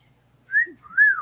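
A person whistles two short rising-and-falling notes, clear and close, in a quiet room.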